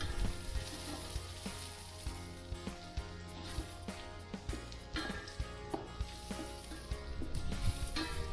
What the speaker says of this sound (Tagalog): Continue po natin ito sa pagigisa hanggang maging translucent po yung ating sibuyas.